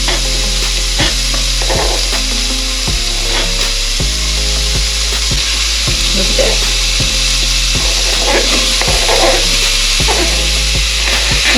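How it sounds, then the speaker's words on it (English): Finely chopped onion frying in oil in a pan is stirred with a spoon, giving loud, continuous scraping and sizzling with a steady tonal layer underneath. "Once you've got all your finely chopped onion in, cook it until it's soft, stirring occasionally with a spoon."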